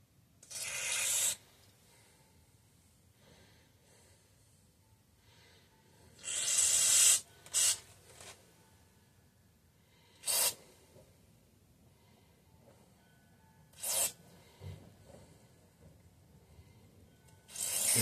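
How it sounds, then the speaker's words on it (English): Aerosol cleaner sprays in about five short, sharp hissing bursts onto a Tecumseh HH120 carburetor part from a Bolens Husky 1253, close up, with quiet handling between bursts. "I will give it a light spraying before reassembling."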